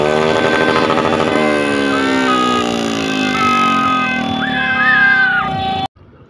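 Motorcycles rev loudly and continuously at a New Year's Eve neighborhood celebration in Bahay Bato. The engine pitch sweeps up and down and a horn-like tone rises over it before the noise cuts off abruptly.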